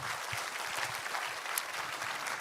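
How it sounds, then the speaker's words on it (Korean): A church congregation gives a short burst of dense, close clapping during a Sunday service, continuous and even throughout with no voices over it. "우리 하나님께 감사의 박수 올리도록 하겠습니다."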